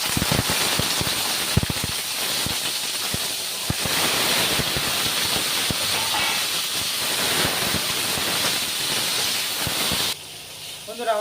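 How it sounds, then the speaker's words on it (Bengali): Mixed vegetables fry together in hot oil in a home kitchen, a loud steady hiss and sizzle with crackling pops and stirring, close up, easing sharply near the end. "এবার হচ্ছে বাকি যে সবজিগুলো আছে সেই সবজিগুলো একসঙ্গে ভেজে নেবো"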